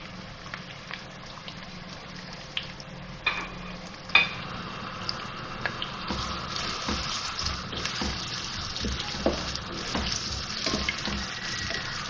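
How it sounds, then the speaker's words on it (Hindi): Chopped onions fry in oil in a pot while a beef kaleji masala is being prepared, giving a steady hiss that swells after a few seconds and continues with occasional clinks and splashes. "और अब मैं ये इसको प्याज को फ्राई करूँगी इसमें डाल के"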